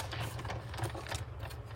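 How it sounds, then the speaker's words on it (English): Die cutting machine working through a piece, a faint, steady mechanical whirring and rattling hum running without pause. "Let me just die cut one for you real quick."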